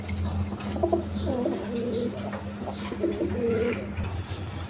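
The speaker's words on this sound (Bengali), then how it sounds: "এখানে এক পেয়ার কবুতর আছে, দেখেন গিরিবাস কবুতর" A pair of Giribaz pigeons, a female and a male, coo softly in low repeated rolling calls at close range, with faint chirps from other birds in the background and no talking.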